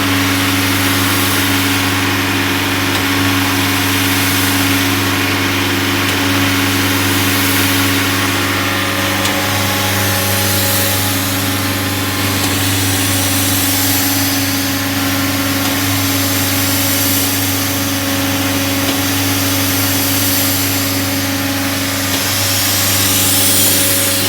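A steady mechanical drone from the running compressor of a self-generating nitrogen servicing cart, with a soft rhythmic rushing of air from its stroking pulsing over the constant hum.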